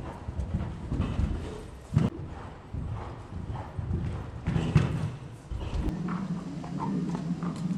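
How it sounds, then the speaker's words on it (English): A young event horse at a yard in Lambourn walks with steady, moderately close clip-clop hoofbeats and occasional dull thuds, and faint voices and background noise sit beneath. "This is DiCapo, one of Laura's younger horses, who's competing at intermediate level."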